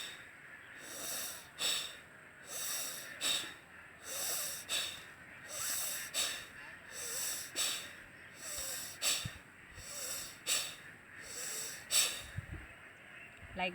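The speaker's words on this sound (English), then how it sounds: "forcefully breathe in and forcefully breathe out through your both nostrils" Forceful pranayama breathing through both nostrils, a steady series of loud, close rushing breaths in and out, evenly paced about one every second, with no talk over it.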